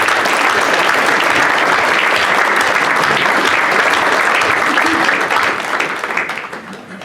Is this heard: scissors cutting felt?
no